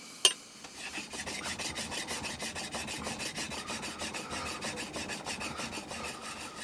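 Steel chisel rubbed back and forth on a fine abrasive during sharpening, a steady rhythmic rasping scrape with regular strokes, close and continuous, after a single sharp knock at the start.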